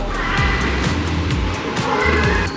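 Cars driving on a road below a high viewpoint in Korea, a steady loud traffic roar with repeated whooshing passes and faint tire noise, no voices.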